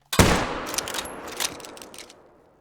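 A single loud 7mm rifle shot cracks in a hunting game, its sharp report rolling into a long echoing tail that fades over a couple of seconds.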